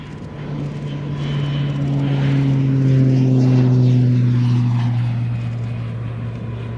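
A propeller aircraft departing at the Royal International Air Tattoo roars loudly as it passes, its engine drone swelling to a peak and then slowly fading with a falling pitch.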